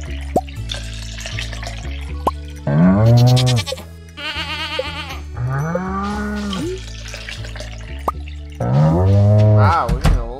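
Farm animals in the Stardew Valley video game: a cow moos and a goat bleats in several drawn-out calls, loud and close, one after another over soft background game music.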